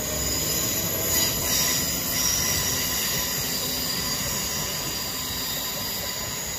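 Class 334 electric trains 334021 and 334017 running through High Street station in Glasgow, a sustained loud rumble of wheels on rail with high metallic squeal throughout, close and continuous, no voices.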